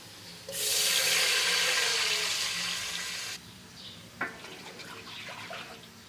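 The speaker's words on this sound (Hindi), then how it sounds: "अब इसमें 2 कप जो है मैं पानी शामिल करूँगी।" Water pours steadily into a cooking pot for a few seconds, then stops, followed by faint clinks and splashes.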